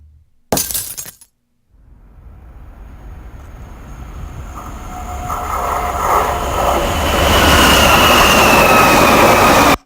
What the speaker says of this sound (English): Obviously a train.